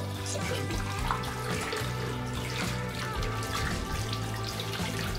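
Water gushes strongly from a faucet after its filter has been cleaned, a steady, close, loud rushing stream that holds nearly constant for several seconds with no talk over it.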